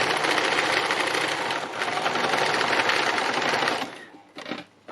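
A sewing machine runs a steady, fast, buzzing stitch for free machine embroidery for about four seconds, then stops, leaving a few faint clicks and rustles.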